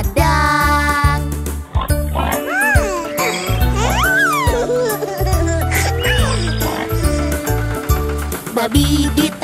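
A voice imitates pig oinks ("oing oing") in a sing-song Indonesian children's tune about a tractor, over a bouncy, rhythmic musical backing.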